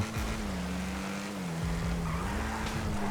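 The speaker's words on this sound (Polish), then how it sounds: "Strasznie szybka auto." A fast car, the Ocelot Jaguar in GTA V Online, revs steadily with a smooth, droning engine tone that rises and dips through gear changes, close and continuous with no talking over it.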